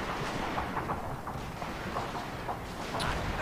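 Continuous crackling musket and carbine volleys in a Fall of the Samurai battle, a dense rattle of overlapping shots with heavy low rumble throughout, steady and fairly loud with no pauses.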